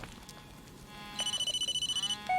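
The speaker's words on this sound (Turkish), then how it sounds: "Aa bir telefon çalıyor." Telephone ringing in the Blair Witch video game: a rapid pulsing electronic trill, about a dozen quick bursts, clear and near, over a low ambient outdoor bed, followed by a brief higher beep.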